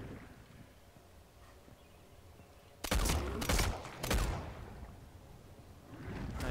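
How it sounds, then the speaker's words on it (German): Gunfire from a weapon in the video game Nether, a couple of loud close bursts of shots breaking in after quiet ambience, then trailing off. "Die Waffe ist laut."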